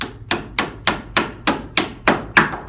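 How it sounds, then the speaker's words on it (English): Eight evenly spaced hammer blows drive a bushing into an upright piano caster socket, sharp close knocks in a steady rhythm about three per second, with no talking. "You can go ahead and just pound that in"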